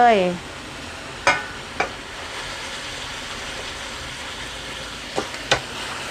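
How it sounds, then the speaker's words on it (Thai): Chinese cabbage stir-fried with cooked pork in a pan, giving a steady loud sizzle throughout, broken by a few sharp clanks of a utensil against the pan, with a brief voice at the very start. "อันนี้หมูก็สุกดีแล้วนะคะ เราก็เอา ผักเรานี้ลงเลยค่ะ"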